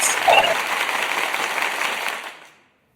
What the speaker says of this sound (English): let me give you all some applause for coming to hang out with me